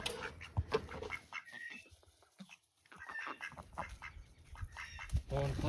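Four hens and a drake quack near water on a farm, with varied calls and squawks, while people talk close by in the foreground.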